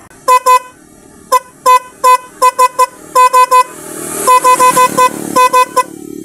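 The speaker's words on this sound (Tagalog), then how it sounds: "Subukan na natin kung talagang bubusina na siya." A motorcycle horn honks repeatedly in short bursts, single toots and quick clusters, loud and close, over a low running engine hum.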